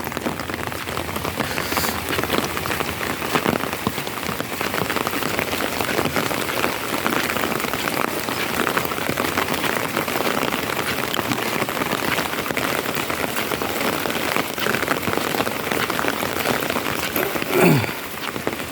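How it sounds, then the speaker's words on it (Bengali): Heavy monsoon rain pours over a Sundarbans village in the early evening, a dense, unbroken hiss of drops on surfaces, steady and loud from start to finish. "এখন প্রচণ্ড বৃষ্টি আজ সারাদিন বৃষ্টি"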